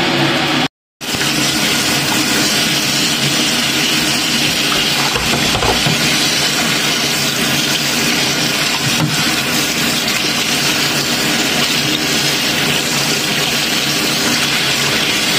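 Soup ingredients for a fox nut and yu zhu soup with walnuts and cashew nuts being rinsed under running water, a steady continuous hiss of flowing tap water with no talk over it.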